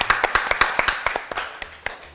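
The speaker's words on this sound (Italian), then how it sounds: "Facciamo un applauso a Simone." A small audience claps for a contestant at a sandwich competition, a quick close run of individual hand claps that thins out toward the end, with no voices.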